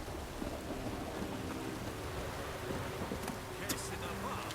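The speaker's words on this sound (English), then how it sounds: "The storm, damn it." Steady heavy rain and rumbling thunder from a storm in The Witcher 3, a continuous wash of downpour with low rolling booms throughout.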